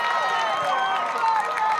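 A crowd cheers and claps at a women's football grand final, University against Cygnet, in a steady wash of noise. A commentator talks over it the whole time.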